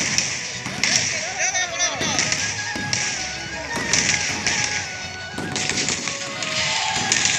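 Firecrackers burst during Holi festivities, sharp cracks and thumps landing every second or so over a bustling crowd with voices talking nearby.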